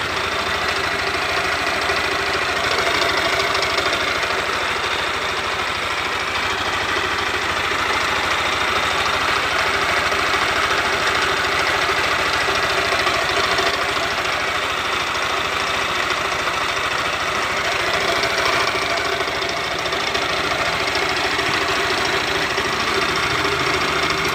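Yamaha NMax scooter engine idling steadily with a rough, knocking mechanical noise near the cylinder head, loud and constant throughout with no talk.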